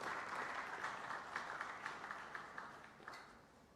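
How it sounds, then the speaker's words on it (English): An audience at a science festival applauds to welcome a guest speaker, with moderate, somewhat distant clapping from many people that carries on evenly and tapers slightly toward the end. "I request all of you to welcome Dr. A.S. Kiran Kumar with applause."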